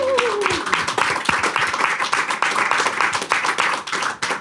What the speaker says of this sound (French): Applaudissements de confiance pour les Rotterdam.